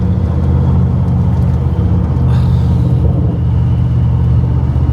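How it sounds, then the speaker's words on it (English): A turbocharged car engine revs hard as the turbo spools up, a loud, steady, deep rumble that keeps going, with a faint rising whine partway through. "now the turbo started spooling up, it's now in more of the mood for it"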